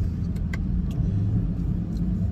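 A Chevrolet Camaro SS with a 10-speed transmission drives along in second gear, its engine and road noise a steady low rumble heard from inside the cabin, with a few faint clicks on top.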